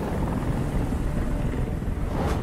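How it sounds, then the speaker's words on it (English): A helicopter in the Detroit: Become Human video game gives a loud, continuous rotor drone with rumbling wind-like noise throughout. "Helicopter, you're ruining everything."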